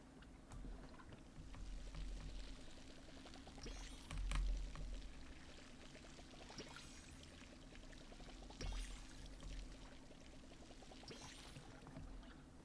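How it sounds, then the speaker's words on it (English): A watering can pours water in the farming video game Palia, a steady soft splashing trickle that runs evenly for several seconds and swells slightly, with no voices. "I love the sound of the water in the watering can."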